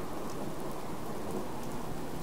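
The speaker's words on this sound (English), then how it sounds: "Rain and thunder and everything." Steady rain pours in a Fallout 4 Commonwealth storm made with weather mods, with a low thunder rumble underneath. The wash is continuous and fairly soft, with no talk.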